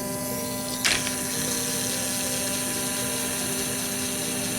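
A cheap $18 robot vacuum spinning in place gives off a steady mechanical whir with a faint tonal hum and one brief click, close and continuous.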